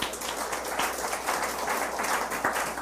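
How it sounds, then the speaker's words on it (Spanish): Applause from a church congregation during a sermon, a steady dense patter of many hands held at moderate level throughout, with no talk over it. "De un aplauso."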